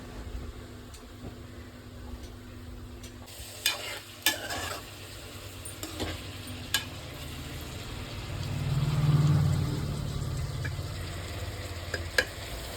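Chopped onions fry in hot oil in a pressure cooker, a steady close sizzle with sharp clacks of a spoon stirring against the metal and a swell of louder frying near the end.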